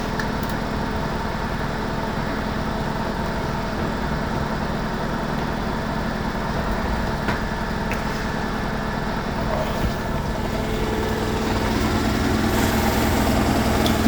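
A Beko WMY81283LMB2 washing machine in an unbalanced spin cycle gives a steady, loud mechanical drone with heavy low rumble and vibration, holding even throughout and swelling slightly near the end.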